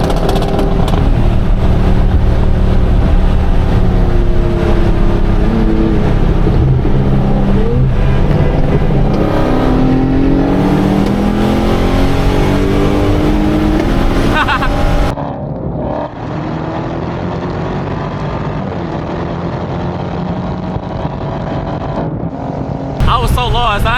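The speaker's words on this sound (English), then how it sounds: "His car sounded way better than what it was stock though" A loud, close car engine drones and revs in traffic, pitch sweeping up and down; the roar drops abruptly partway through to a lower, steadier hum.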